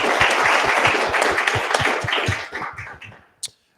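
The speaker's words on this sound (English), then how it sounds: "Let's sit there and give them a big round of applause for attending." An audience gives a big, steady round of applause for election candidates in the Tauranga electorate; the clapping is close and continuous, then fades out near the end, followed by a couple of isolated claps.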